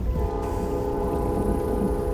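A train rolls steadily nearby for a couple of seconds, its horn holding a sustained low tone over the rumble, with no talk.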